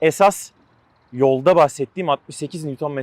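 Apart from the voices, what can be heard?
None of the usual background noises is heard.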